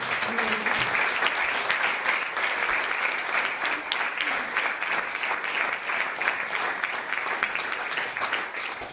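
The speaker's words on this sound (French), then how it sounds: "je pense qu'on peut vous applaudir" Steady audience applause at a round-table discussion, dense and sustained for several seconds, moderately distant, with faint speech underneath.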